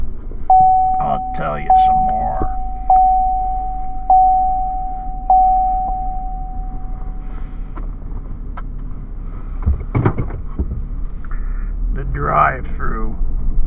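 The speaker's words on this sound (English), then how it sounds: "Sorry for the beeping." A car sounds a steady electronic beeping tone, repeated at intervals, during a rainy drive toward a county bridge, with engine rumble and wind beneath and a person talking over it.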